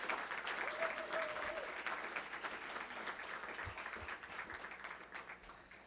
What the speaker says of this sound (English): How about another applause for Ray John?